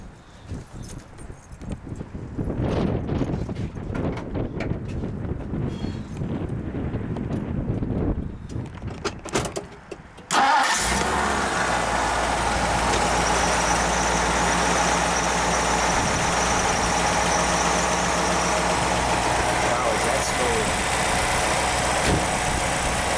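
A 1957 Ford Thunderbird engine cranks and fires partway through after some shuffling handling noise, then settles into a steady, smooth, close idle that runs to the end.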